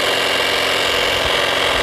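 A Honda PCX 160 scooter engine runs steadily in a loud, even, close drone with a fine rapid pulse and no pauses or talk.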